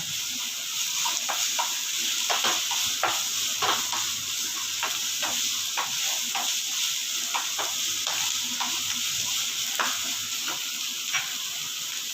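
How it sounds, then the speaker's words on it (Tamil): Onion, ginger and garlic sautéing in a pan for roadside cabbage kalaan, a steady bright sizzle with regular scraping stirs of a spatula every second or so, close and continuous, with no voices. "இஞ்சி பூண்டு கொஞ்சம் போட்டுக்கலாம் நல்லா பச்சை வாடை போகிற அளவுக்கு வதக்கிக்கோங்க"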